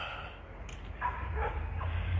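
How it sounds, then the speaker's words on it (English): Dogs bark a few times in a front yard, faint and distant over a low rumbling background, with no one talking. "Fucking dogs."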